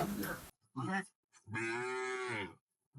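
Cattle lowing at a busy Eid cattle market, a short moo and then a long, loud, close moo, with brief human voices between them.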